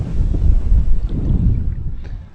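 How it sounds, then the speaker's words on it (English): Gusty wind buffets the microphone by Ullswater lake in the Lake District, a loud, low, rumbling roar that swells and eases with no voices. "But it's quite windy at the minute."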